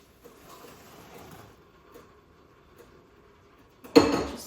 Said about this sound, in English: I don't have a lid for this bowl, so I just use a plate and put it over top.